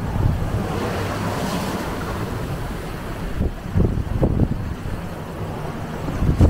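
Strong wind of about 24 knots buffets the microphone while a sailboat runs under full main and jib, with a steady roar and waves splashing and slapping against the hull in bursts.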